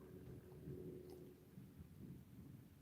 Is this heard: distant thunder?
yes